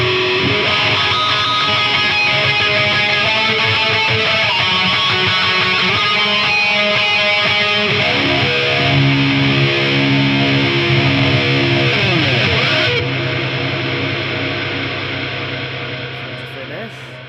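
A loud electric guitar runs through a flanger, massive reverb and wah-wah pedal, sustaining distorted tones with sweeping, swirling shifts before trailing off into a fading reverb tail.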